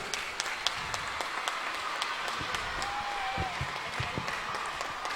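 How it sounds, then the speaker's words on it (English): An audience at a school Teachers' Day celebration applauds after a performance, a fairly faint, steady patter of many hands heard from some distance in a large hall. "give a huge round of applause for a performance"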